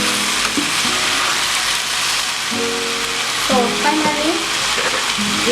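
Beef and vegetables sizzle in a hot pan while being stirred, a constant loud frying hiss with scraping and clattering from the stirring, close up and without speech.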